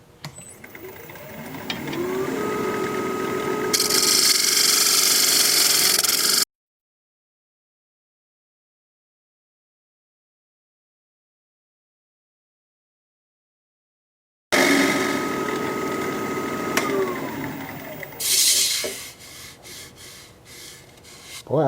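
Wood lathe turning a spalted wood pedestal bowl at about 1400 RPM, a steady hum with scraping tool contact in two stretches broken by a long silent gap, and no talking.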